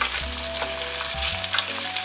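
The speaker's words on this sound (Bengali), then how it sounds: "হালকা করে সেদ্ধ আলুগুলোকে ভেজে নিচ্ছি" Lightly boiled potatoes fry in hot oil for a Bengali dhokar dalna, a steady close sizzle broken by a few clanking stirs of the pan, with no talking.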